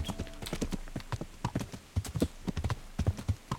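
Horse hooves clip-clopping steadily while riding in the video game Kingdom Come: Deliverance, a brisk, close rhythm of hoofbeats heard alone without talk.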